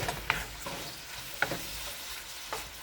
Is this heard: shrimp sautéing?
yes